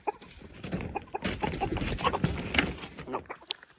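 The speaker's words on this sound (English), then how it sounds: "Let's see what these chickens do when I try to open the door." Chickens in a coop during a snowstorm cluck and squawk in a busy, overlapping burst, close and fairly loud, rising and falling in short bursts before tapering off.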